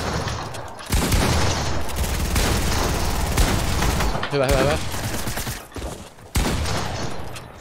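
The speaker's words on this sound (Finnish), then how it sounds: "Ammu, ampukaa kaikki samaan aikaan." Bursts of rapid gunfire from several weapons in the video game Fortnite as a squad shoots together, loud overlapping volleys with brief gaps between them and players talking briefly.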